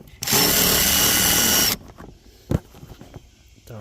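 A power drill fitted with a Phillips bit whines loudly for about a second and a half as it bores through plastic, working on a 2015 Ford E350 vent vacuum reservoir, followed by a sharp knock and quiet handling noises.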